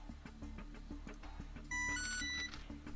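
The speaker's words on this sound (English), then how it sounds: "Why is this beeping at me now?" A steady electronic beeping alert from the Battle Nations strategy game rings out, loud and sustained for about a second amid game music and effects.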